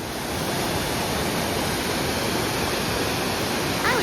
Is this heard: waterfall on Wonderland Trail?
yes